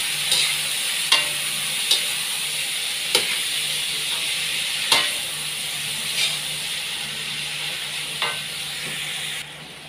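Carrot, sweet potato, potato and chayote stir-frying in a pan, a steady bright sizzle with several sharp scrape-and-clack stirring strokes spaced a second or two apart, close by.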